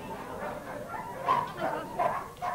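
Greyhound racing dogs at a dog track giving short yips and barks, a few quick bursts over a murky crowd-like background, moderately near.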